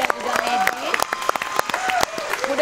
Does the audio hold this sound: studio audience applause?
yes